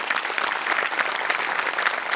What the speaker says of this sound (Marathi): पुन्हा एकदा जोरदार टाळ्या